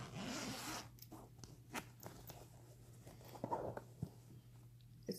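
A zipper on a floral fabric bag with a green zip is pulled open in short quiet runs, with small fabric rustles and soft taps between pulls, close and faint.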